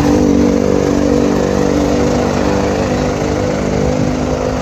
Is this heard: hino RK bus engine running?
yes